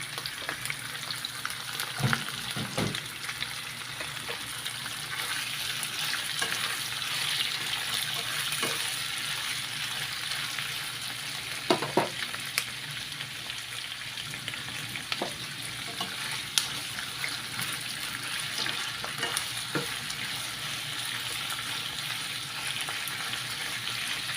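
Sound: squid frying and being stirred in a pan for adobo

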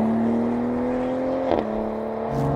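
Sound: BMW Z4 M40i roadster driving

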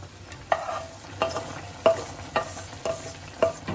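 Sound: cashews and raisins added to simmering orange chutney, stirring

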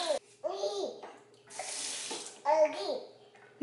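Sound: toddler splashing water in bath

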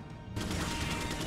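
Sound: pistol gunshots in video game Resident Evil 4

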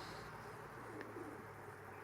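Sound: pigeons cooing by a dovecote

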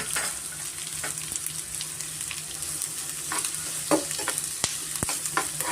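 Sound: onions frying in butter, stirred in pan

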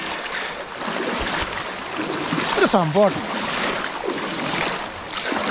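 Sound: flowing water of the Velur forest river

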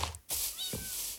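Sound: cat meowing in Minecraft video game

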